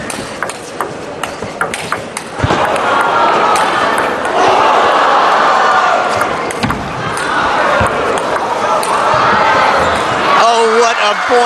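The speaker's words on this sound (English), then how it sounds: "You could hear the crowd oohing and hawing" Spectators at a 2014 China Open table tennis semifinal, with sharp ball and paddle hits leading into a loud, sustained swell of crowd reaction, with commentary voices on top.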